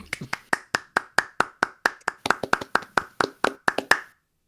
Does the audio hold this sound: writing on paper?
no